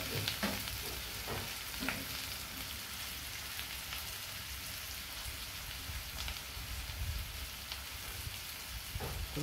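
Chopped onions frying in hot oil for chole masala, a steady close sizzle with scattered crackles and pops running throughout, no talking.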